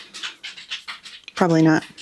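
A pet dog pants in a quick, rhythmic burst close by in a home in Eagle River, Alaska, following a voice talking.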